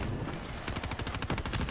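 Rapid automatic gunfire in the video game Black Ops 3, a dense run of close, loud shots in quick succession after a brief lull.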